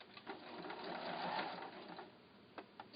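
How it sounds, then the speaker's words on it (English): A sewing machine runs steadily for a few seconds, stitching quilt block pieces together for a windmill block, its motor hum rising and falling with a few soft clicks, close and alone. "I go ahead and get my next 2 pieces I want to sew together."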